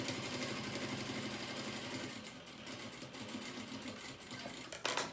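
A sewing machine stitches along fabric with a fast, steady mechanical chatter at moderate level. The chatter eases partway through, and a brief louder knock comes near the end. No one speaks.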